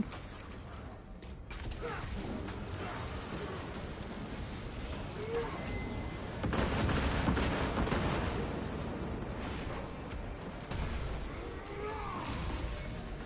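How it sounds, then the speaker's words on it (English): Auto bolt rifle fire in the Space Marine 2 video game: rough, broadband bursts and mechanical clatter mixed with in-game blasts, swelling louder midway and running continuously. "Surprised how well this auto bolt rifle's performing."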